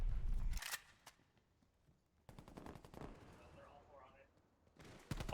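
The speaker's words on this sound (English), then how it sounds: "Artillery coming through from Apollo." Call of Duty artillery fire with a loud opening blast, then quieter stretches broken by rapid bursts of gunfire and distant impacts, ending in another sharp burst, with game voices faintly underneath.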